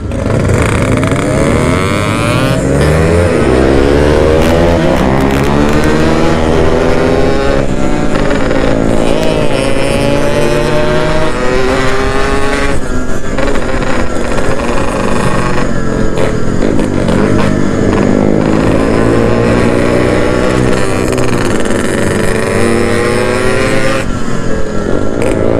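A Yamaha RX King two-stroke motorcycle, compression-tuned, revving hard and close, its raspy engine note rising and falling through repeated throttle blips and sustained high revs with a crackling buzz.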